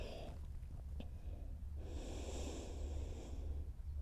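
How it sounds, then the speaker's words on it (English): A deep, slow breath during a yoga session, taken in a resting child's pose, is heard as a soft airy rush of air, close and quiet, with light background hum and no talking. "Take a nice deep breath."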